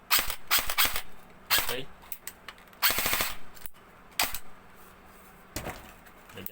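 Double Bell M4 CQBR airsoft rifle test firing in sharp rapid bursts and single cracks, close and loud, separated by short pauses, with someone speaking briefly in between.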